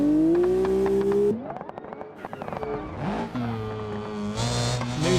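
Rotary-engined BX race car at a rallycross round, its light, high engine note rising and falling close by as it accelerates, shifts and revs hard through the course.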